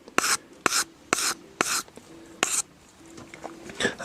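Hand tools being sharpened and their rough edges smoothed, heard as a series of short, close rasping strokes with brief pauses between them and no talking.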